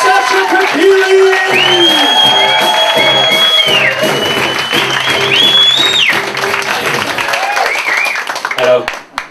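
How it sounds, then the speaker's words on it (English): A comedy club audience gives a loud, sustained round of applause with cheering and whoops, dense clapping filling the room throughout and a few shouted voices rising above it. "So I want your absolute massive round of applause."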